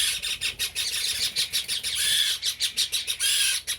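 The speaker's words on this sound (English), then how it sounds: "there went our little budgies flying about" Young pet budgies squawk and chirp in a rapid series of sharp, repeated calls while fluttering about, loud and close with no talking.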